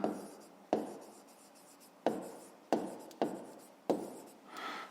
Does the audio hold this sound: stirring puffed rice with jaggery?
no